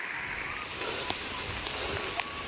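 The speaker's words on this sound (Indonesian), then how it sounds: "Tapi di sini mah hujan ya tuh." Rain falling on a mountainside village, a steady soft hiss of rainfall with a few sharper drips standing out, faint and without speech.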